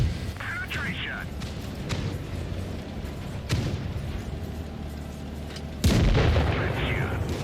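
Tank cannon fire in the mobile game World of Tanks Blitz, a few heavy booms spaced seconds apart over a steady engine rumble, with game voice callouts in between.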